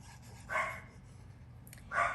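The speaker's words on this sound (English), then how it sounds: "There's somebody outside that my dogs are hearing. That's why they're barking." Dogs barking indoors at someone outside, two single muffled barks about a second and a half apart, moderately distant and alone over a quiet room hum.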